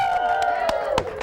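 A lively studio audience at a television talk show raises a loud, sustained wave of cheering and clapping, with sharp claps and whoops near the end of a short burst.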